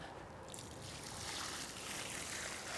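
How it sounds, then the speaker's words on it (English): Newly planted roses are watered, giving a faint, steady splashing trickle of water onto soil that builds slightly after the first half second. "I'm going to water them a little bit"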